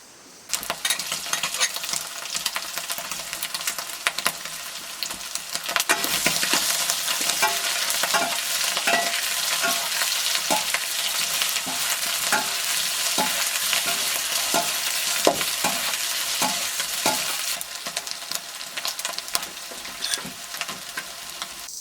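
Browned beef frying in a pan, loud crackling sizzle swelling after a few seconds and holding steady, punctuated by regular spatula scrapes and taps close by, with no speech.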